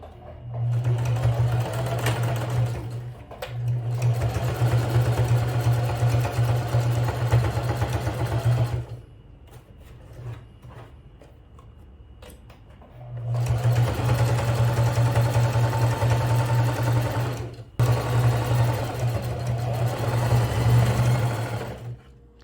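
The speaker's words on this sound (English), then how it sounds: "then we're going to take it to the sewing machine and then we are going to stitch across" A sewing machine hums and whirs steadily through two long stitching runs, stopping for a few seconds of quiet in between.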